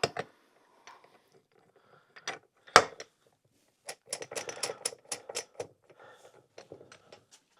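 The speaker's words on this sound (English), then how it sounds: "This tool just pulls on the crank, pushes on the case, and that pulls them through." Crankcase separator puller tool drawing a motorcycle crankshaft through its case, heard as scattered sharp metallic clicks and ratcheting taps, with one loud crack followed by a quicker cluster of clicks, close and otherwise quiet.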